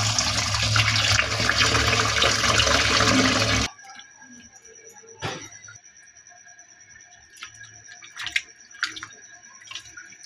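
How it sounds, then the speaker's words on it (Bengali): Sliced potatoes washed under a running tap give a loud steady gush for about three and a half seconds, then the flow stops, leaving scattered drips and small splashes. "এবার এগুলোকে ধুয়ে নেব ভালো করে।"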